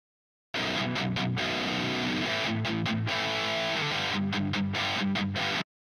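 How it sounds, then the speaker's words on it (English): A heavily distorted electric guitar through a tube amp with a cheap attenuator plays a chugging riff with brief stops between chords, loud and close, with no voices. "they both kind of sound like a distortion pedal"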